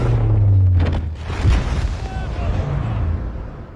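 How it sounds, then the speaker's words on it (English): Deep booming blast with a low rumble that rolls on and fades, crackling debris mixed in, and a voice speaking faintly underneath. "An explosion occurs."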